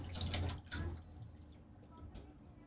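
Water is poured into a 2-gallon nano reef tank during a water change, making a brief splashing trickle at first that fades to soft drips and quiet gurgling.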